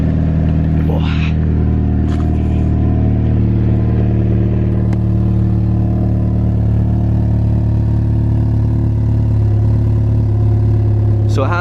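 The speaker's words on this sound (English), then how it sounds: "I'll jump out and we can hear the exhaust." A Mini John Cooper Works hot hatch idles with a steady, deep, throaty exhaust rumble, close and loud throughout, with occasional brief clicks over the drone.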